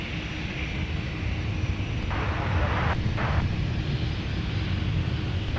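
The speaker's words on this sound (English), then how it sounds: "it's just a non-stop parade of Sun Country aircraft today" A Sun Country airliner at Minneapolis–Saint Paul airport, its jet engines giving a steady, broad, rumbling roar that holds for several seconds at moderate distance, with no talking.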